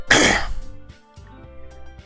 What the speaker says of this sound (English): Sometimes I cough a bit.